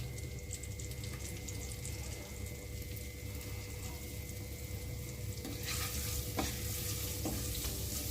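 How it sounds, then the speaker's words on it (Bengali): Thinly shredded potatoes and vegetables fry in oil for a vegetable chop, a steady close hiss of sizzling throughout that grows louder near the end with a few scraping stirs. "এবার এগুলো ভাজার জন্য দিয়ে দিচ্ছি।"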